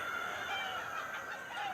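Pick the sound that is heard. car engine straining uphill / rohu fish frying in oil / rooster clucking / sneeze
rooster clucking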